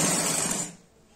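A sewing machine runs in a brief, fast whir while stitching 1-inch lace onto a lehenga, then cuts off and leaves quiet.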